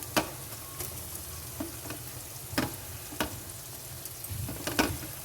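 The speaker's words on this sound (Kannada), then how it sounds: "ಸೊ ನಾನು ಆಗಲೇ ಹೇಳ್ದಂಗೆ ಈರುಳ್ಳಿ ಚೆನ್ನಾಗಿ ಹುರಿಬೇಕು." Onions frying in a pan for chicken fry: a constant low sizzle with sharp, irregular spatula scrapes and taps against the pan, close and moderately quiet, no speech.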